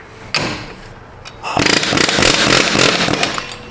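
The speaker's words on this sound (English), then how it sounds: "let's get out the very basic air hammer." A pneumatic air hammer in a repair shop bursts in briefly with loud, rapid mechanical hammering, then runs steadily for a couple of seconds, close by, with an impact thump before it.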